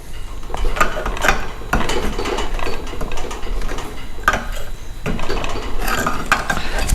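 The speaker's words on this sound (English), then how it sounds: "Then a seal pulling tool." A seal pulling tool works the rear axle seal out of an Austin-Healey 3000 axle casing held in a vise. Close metallic scraping and prying sound in repeated strained bursts, with clanks and creaks and no talking.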